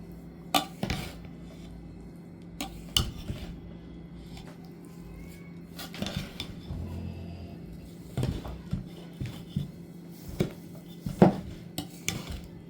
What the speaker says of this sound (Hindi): इस तरह से इसको मिलाएं कि सारी जगह घी पहुंच जाए